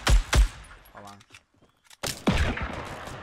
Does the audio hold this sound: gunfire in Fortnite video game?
yes